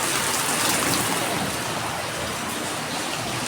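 Heavy rain falls in Shivamogga with a loud, dense and steady hiss of water pouring onto surfaces close by, filling the whole stretch without pause.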